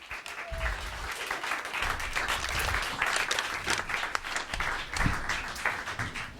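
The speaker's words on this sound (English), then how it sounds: "A round of applause" Audience applause at a 2014 TT Senior Race press conference introducing a motorcycle racer, sustained dense clapping from a room of people with brief murmurs, no clear talk.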